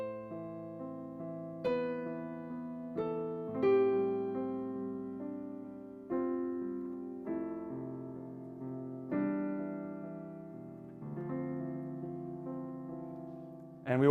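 Piano playing Joy to the World with the sustain pedal held, so each phrase of chords rings on and blurs into the next at a slow, soft, even pace.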